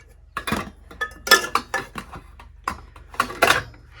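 Pans and mixing bowls clatter as they are pulled out and handled in a small off-grid cabin kitchen, with several close, irregular clinks and knocks of cookware.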